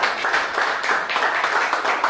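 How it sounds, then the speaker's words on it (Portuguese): A church congregation claps together, a dense burst of hand claps with a loose pulsing rhythm, fairly close and steady for a couple of seconds. "aplauda o Senhor Jesus"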